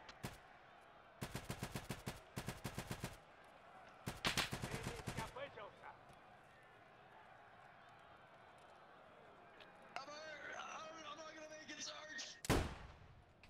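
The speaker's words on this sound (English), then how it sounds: "Getting some points now with the shotgun." Shotgun blasts in the online shooter Escape from Tarkov Arena, fired in tight bursts of rapid repeated shots, loud and close, followed by quieter footsteps and movement, with a final sharp blast near the end.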